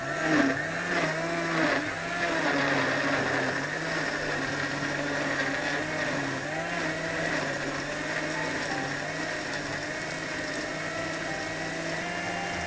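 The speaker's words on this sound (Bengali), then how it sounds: "এখন আমি ব্লেন্ড করব" Countertop blender whirring steadily as it blends iftar drink ingredients, a loud, continuous motor drone with shifting pitch that runs alone for the full length.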